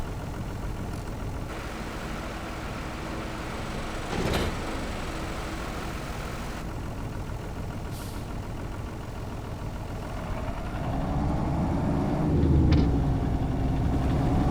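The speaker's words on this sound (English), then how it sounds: "I honestly am gonna miss the sound of this tractor though." A tractor engine idles steadily and close by, a constant low rumble that swells slightly toward the end.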